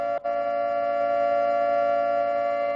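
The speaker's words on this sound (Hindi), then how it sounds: "एक सायरन की आवाज" A loud, steady siren tone holds without pause after a brief cut near the start, sounding alone and close.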